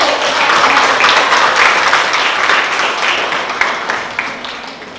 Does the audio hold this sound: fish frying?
no